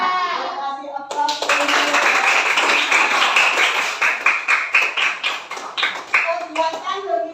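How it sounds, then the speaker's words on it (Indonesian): Classroom applause from a group of children, a dense burst of hand claps that settles into a steady rhythmic clapping, near and loud, with a voice briefly heard before it begins. "Terima kasih aplaus."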